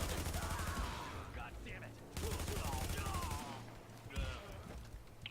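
Rapid sniper and automatic gunfire in The Division video game, with bursts of loud cracks rattling at close range, a brief pause, then more volleys, mixed with game sound effects.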